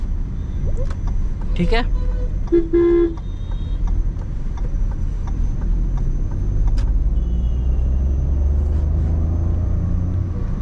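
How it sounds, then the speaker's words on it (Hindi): A 2025 Maruti Suzuki Swift hatchback accelerates from a standstill on a road with traffic ahead, its engine a steady low rumble under cabin noise, with a brief horn-like tone and the driver speaking briefly. "Maruti Suzuki Swift 2025 0 to 100"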